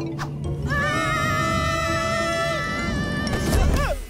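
A cartoon horse lets out a long, loud whinny with wavering pitch that rises and then drops off, set against busy background music and effects in a children's animated series.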